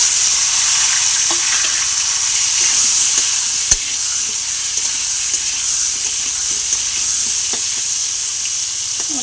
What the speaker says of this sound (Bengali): আমি বেগুনটা এই তেলে বেগুনটা ভেজে নেব।